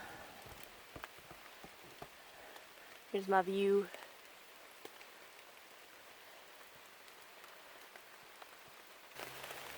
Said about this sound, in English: Okay, so it's raining a ton